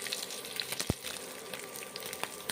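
Paneer frying in mustard oil in a pan with whole cumin, a steady close sizzle and crackle with a single sharp pop partway through, no talk.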